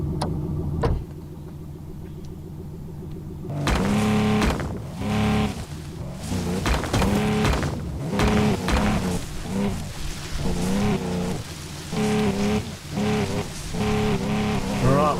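Off-road vehicle in Offroad Mechanic Simulator rolling downhill with its handbrake released, a steady low engine-like drone that grows louder and rougher partway through, with uneven bumps and rumbles continuing to the end.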